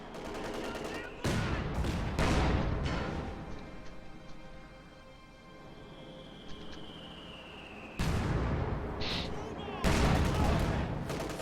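Gunfire and artillery from a WWII strategy video game sound in loud overlapping bursts of rapid shots and booms, with quieter stretches and distant shots between them.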